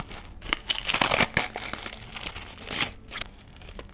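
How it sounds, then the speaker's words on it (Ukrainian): Crinkly paper being torn and crumpled open by hand, a small paper surprise packet with a Naruto item inside, in a sequence of close, sharp rustling bursts. "ми відкриваємо пакетик з Наруто"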